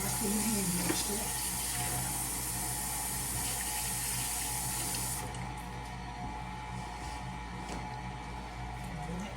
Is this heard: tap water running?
yes